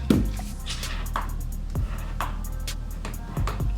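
Hair mousse pumped out of a can for styling a glueless closure wig: a soft, foamy squish and hiss up close, with a few light handling taps and no talking.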